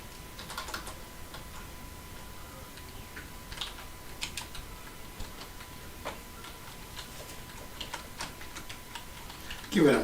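Quiet, steady typing on a computer keyboard in a smoke room, a run of light irregular key clicks at close range with a louder bump at the very end.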